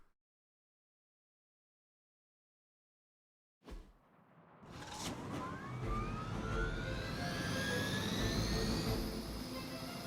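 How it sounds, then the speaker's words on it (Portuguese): After several seconds of silence, a Hydra helicopter in the video game Marvel Midnight Suns roars in as a loud, building turbine whine with rising tonal sweeps that swells and holds near. "Incapacite o helicóptero da Hydra antes que ele vá embora."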